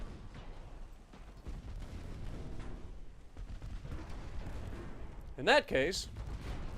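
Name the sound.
battleship guns firing in a naval video game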